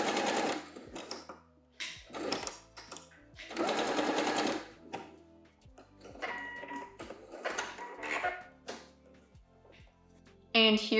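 A sewing machine back stitching swimwear elastic runs in several short close bursts of rapid whirring and stitching, with pauses between runs and a brief sharper burst at the end.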